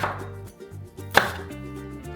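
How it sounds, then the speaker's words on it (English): A knife cuts through a red onion on a cutting board, giving a few crisp chops and slicing taps, one sharper stroke standing out near the middle, over a steady low background hum. "I'm gonna make my red onion ones. So I'm gonna cut this in half."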